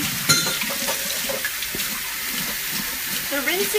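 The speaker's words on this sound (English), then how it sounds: "this is just a can of organic black beans. And I like to tell everybody that it's a good idea to rinse them." Running tap water rinsing a can of organic black beans in a kitchen sink, a steady broadband splash that goes on for the whole stretch with small clatters, fairly close and with no talking.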